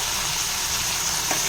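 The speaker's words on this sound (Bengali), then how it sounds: "পেঁয়াজগুলো ভালো করে ফ্রাই করে নেব।" Onions with bay leaves and dried red chillies fry in oil, a continuous bright sizzle close up, steady and loud with one faint scrape of stirring near the end.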